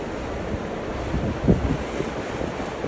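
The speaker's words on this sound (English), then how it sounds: "I took it out of gear and I let the waves just sort of push me in" Ocean waves and wind surround a boat being pushed toward shore by breakers, a steady rushing wash with buffeting wind noise and a slight swell of surf midway, no voices.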